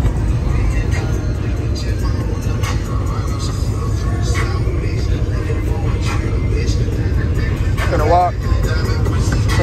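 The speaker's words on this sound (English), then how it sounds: "Tow truck coming through?" Tow truck rumbling past at a car show, a steady low engine and road roar under nearby crowd chatter and voices, with a brief whistle-like squeal near the end.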